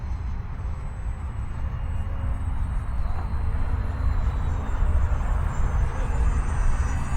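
UMX Waco RC model airplane flying in to land, a continuous broadband engine and wind roar that grows slightly louder over several seconds, with no talking.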